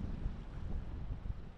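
Steady low rumbling wind buffeting the microphone at the Coral Lagoon on Malta's northern coast, continuous and fairly loud, with a faint wash of water or waves underneath.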